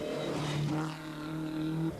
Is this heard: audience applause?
no